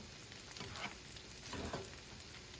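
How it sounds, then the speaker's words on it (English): Potatoes fry in melted butter in a pan while being stirred, a faint, close sizzle with soft scraping swishes of the stirring rising twice, and no talking. "I'm gonna pop these guys in here. Give them a nice stir around to get that butter all incorporated."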